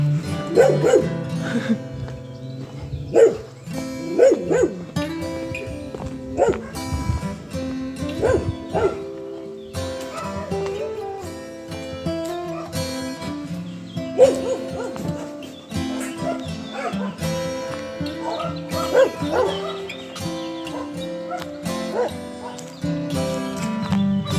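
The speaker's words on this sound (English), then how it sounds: "we're coming up to the dog shelter" Dogs bark repeatedly at a rural dog shelter near animal sheds, a dense chorus of overlapping barks and yips that carries on throughout amid steady background noise.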